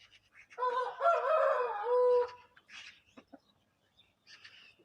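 A seven-month-old young rooster crows in a strained, wavering call lasting about two seconds, followed by a few short clucks and soft scratchy sounds nearby, with no talking.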